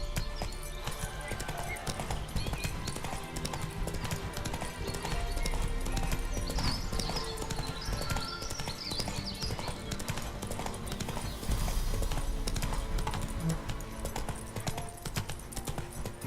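Roach the horse gallops in The Witcher 3, steady clip-clop of hooves pounding continuously and fairly loud, with a brief whinny, layered over game music and ambient sound.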